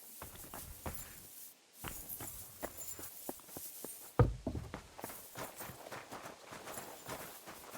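Horse hooves clip-clop on the ground in the medieval role-playing game Kingdom Come: Deliverance 2, a steady walking rhythm of moderately close hoofbeats with a sharper knock near the middle.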